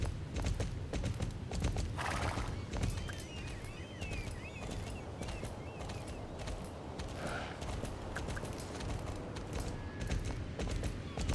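A horse's hooves clip-clop at a steady, slow walking rhythm in the Star Stable video game, passing a swamp with old trees, with faint creaks and ambient game sounds around it.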